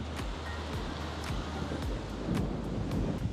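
Steady wind in Palawan, Philippines roars and buffets the microphone, a continuous broadband rush with low gusty rumbles and no voices.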